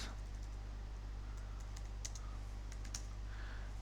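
Light clicking keystrokes on a computer keyboard entering a Docker command, scattered taps tapping out irregularly over a quiet electrical hum, faint and close with no voices.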